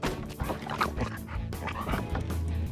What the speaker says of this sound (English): No, bad dog! I hate dogs.